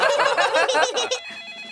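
A cartoon telephone rings loud and close in a rapid trilling burst that lasts about a second, then stops with a faint tonal tail.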